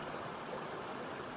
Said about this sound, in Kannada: ಮೇಲಿಂದ ಜರಿ ಕಾಡಿಂದ ಹರ್ಕೊಂಡ್ಬರ್ತಾ ಇದೆ. ಅದು ಬಂದು ಈ ನದಿನ ಸೇರ್ಕೊಳ್ತಿದೆ ನೋಡಿ.